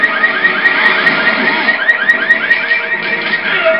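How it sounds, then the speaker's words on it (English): Repeated electronic beeping in the Resident Evil 6 demo, a steady rhythmic pulse sounding over a busy wash of game effects and music, with no one speaking. "Why is the beeping louder when I'm not approaching it?"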